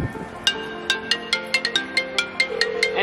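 A doorbell chime plays a quick melodic sequence of bright, rhythmic electronic tones, moderately close and alone.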